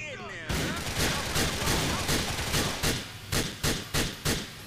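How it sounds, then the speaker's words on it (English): Shotgun blasts in Grand Theft Auto IV, loud, booming shots close by in a rapid string, then spaced out into separate heavy bangs toward the end. "I can't get a shot in with a shotgun"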